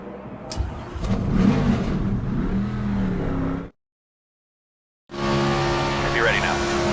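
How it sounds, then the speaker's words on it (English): NASCAR 25 stock car engines at Daytona roar and rev together at the race start in the video game, loud and sustained, then cut to silence before resuming with a steady engine drone. "Drivers, start your engines!"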